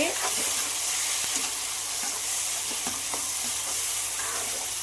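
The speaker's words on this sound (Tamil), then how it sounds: "வெங்காயம் நல்லா வதங்கிடுச்சா இந்த ஸ்டேஜில் நான் தக்காளி போட்டுக்கிறேன்" Tomatoes added to sautéed onions fry in a pan, producing a steady dense sizzle punctuated by several spatula scrapes and taps, close and fairly loud with no voices.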